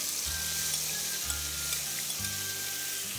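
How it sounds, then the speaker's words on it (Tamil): Masala-marinated chicken sizzling in hot oil, making a loud, dense and steady hiss that lasts the whole time, with faint low background tones underneath. "இப்போ நாங்கள் இதை எண்ணெயில் இப்படி போட்டு"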